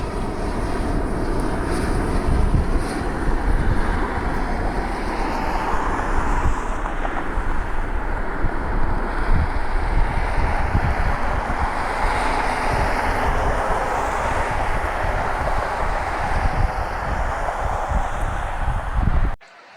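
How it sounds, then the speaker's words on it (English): A Dassault Falcon mini tri-jet flies inbound from Oakland, giving a loud, steady jet roar that holds for nearly twenty seconds with some wind buffeting at the microphone, then cuts off abruptly. "Dassault Falcon inbound from Oakland."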